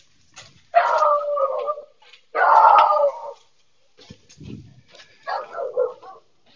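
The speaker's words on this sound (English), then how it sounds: "that door had a dog, so often there's loud dogs" A dog barks behind a closed front door, a few loud bursts with short gaps, some whimpering yips in between, heard close from the doorstep.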